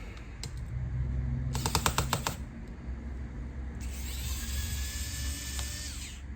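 A Dell Latitude E7480 laptop has screws taken out of its bottom with a small electric screwdriver, heard as short, close whirring bursts with clicking ratchet-like pulses over a faint background hum, with no speech.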